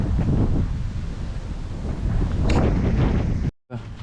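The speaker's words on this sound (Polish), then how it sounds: "na prawo wiatr idzie do nas" Strong wind buffets the microphone with a low, roaring rumble, gusting continuously before a brief cutout near the end.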